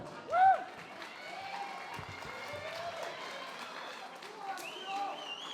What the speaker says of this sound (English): Let's have a huge round of applause for our main event fighters.